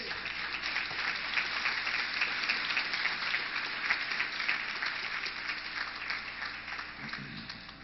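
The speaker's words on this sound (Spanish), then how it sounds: "¿Por qué no le damos un aplauso a Dios?" Church congregation applauding God during a Spanish-language sermon, a dense steady wash of clapping filling the whole stretch at even loudness, with faint low hum beneath.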